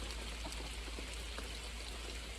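Rain falls on the Appalachian Trail as a faint, steady, even hiss of drops with no breaks, heard from a sheltered spot.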